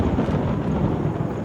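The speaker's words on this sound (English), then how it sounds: "With the storm getting ever closer" Low, steady wind roaring across open ground beside a river in Colombia as a storm closes in, a dense broadband rumble with no pauses and no voices.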